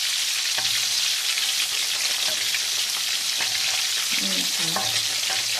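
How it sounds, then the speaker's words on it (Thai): Sun-dried striped catfish deep frying in oil makes a loud, dense, continuous crackle, with a few faint utensil knocks and someone briefly speaking over it. "นี่นะคะกำลังทอดอยู่นะคะ"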